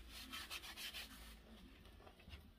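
Medium steel wool scrubs rust and paint spatter off the iron body of a Stanley 4 1/2 hand plane in steady, quiet back-and-forth strokes that become softer and finer toward the end.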